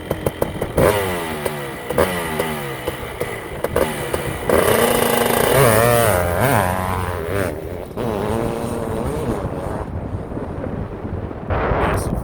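A Kawasaki KX500 two-stroke dirt bike snaps off a holeshot start, a loud close engine blast with rising revs through gears, then fading as it pulls away.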